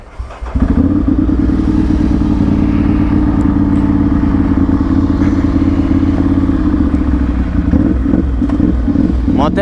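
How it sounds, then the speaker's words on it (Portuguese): A Ducati 796 motorcycle fitted with a titanium exhaust runs close by, its engine holding a loud, steady, deep drone for several seconds after a brief opening rumble. "Vamos ver que vai dar de velocidade essa motoca aqui."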